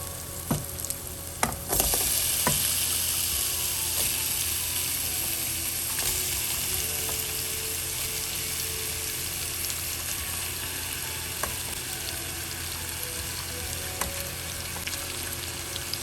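Prawns and onions frying in a pan for a Sri Lankan stir-fried prawn dish give off a steady, dense sizzle, with a few clinks and stirring scrapes near the start.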